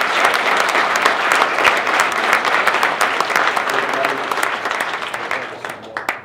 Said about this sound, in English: So I want to ask you to give Bobby Roberts a round of applause for his leadership.